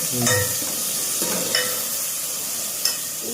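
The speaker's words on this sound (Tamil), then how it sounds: "அடுத்து தக்காளி தக்காளி எடுத்து வதக்கிடுங்க." Tomatoes sizzling and sautéing in oil with onions in a pan for kara kuzhambu, a steady close hiss broken by a few sharp stirring scrapes.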